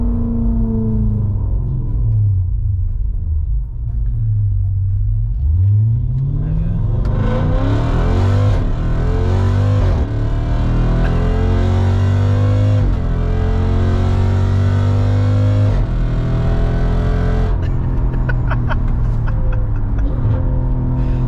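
A car engine of over 500 bhp revs hard and accelerates through rising gear pulls, loud and close for the whole stretch with no voices.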